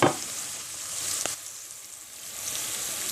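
Spices hitting sautéed onions in a hot pan, a steady close sizzle with a brief clatter near the start and no talk.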